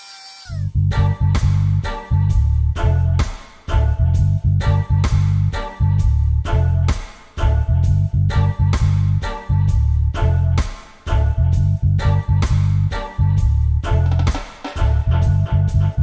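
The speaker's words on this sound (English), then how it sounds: "Go ahead and get an abrasive disc that is like this. There are two ridges here, one here and here. Do not be overly aggressive. You just want to get rid of the rust." Abrasive disc on a power tool grinding rust from the ridges of a 2010 Volkswagen Jetta TDI rear brake rotor, in repeated loud whining bursts of about three seconds separated by short pauses.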